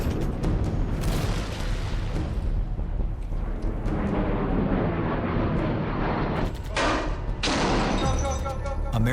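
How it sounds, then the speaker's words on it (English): A-10 Warthog Gatling gun bursts and high-explosive rocket detonations from repeated attack passes on an enemy position, a loud, dense roar of continuous fire and booms with sharp bursts and crackling near the end. "We made several passes, both with our Gatling gun and high explosive rockets on the enemy location."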